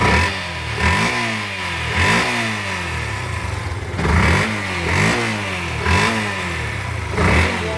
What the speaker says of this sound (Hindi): अब बाइक को स्टार्ट करूंगा।